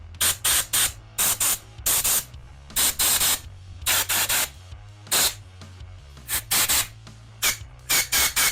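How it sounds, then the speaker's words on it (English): Compressed air is blown in short, sharp hissing bursts into the bleeder holes of a silicone mask, about a dozen loud, close blasts in an irregular rhythm with brief silences between them, and no speech. "Now I'm going to try blowing a little bit of compressed air into these bleeder holes."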